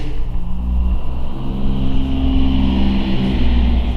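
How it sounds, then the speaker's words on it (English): A car drives by outside, its engine a steady low rumble that swells and holds close and loud for several seconds, with no talk over it. "Car driving by."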